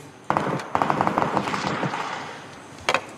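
Gunfire in a video game with skydiving and wall-climbing action: sharp shot bursts in quick volleys, then a fading tail and one more short burst near the end.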